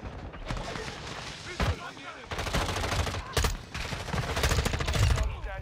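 Bursts of automatic gunfire and a sharp flashbang blast in Modern Warfare 2, loud and dense, with shots rattling almost continuously and a brief dip before the firing resumes.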